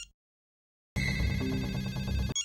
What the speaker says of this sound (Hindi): किसी का फोन बज रहा है आप में से